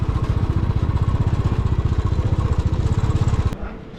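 A Royal Enfield motorcycle in Ladakh in the Himalayas thumps close by with a fast, even single-cylinder beat for about three and a half seconds, then cuts off abruptly into quiet.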